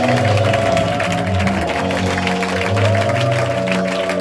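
A church congregation claps and cheers in an offering of acclaim during a worship service, a loud, dense crowd sound with a steady low hum beneath it and no clear speech.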